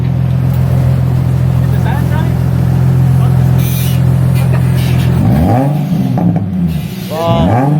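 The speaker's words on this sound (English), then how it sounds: "Rev it, rev it, rev it." A Nissan 350Z with a custom single-exit exhaust idles with a deep, throaty exhaust rumble, then revs sharply several times, each rev rising and falling. Voices are heard underneath.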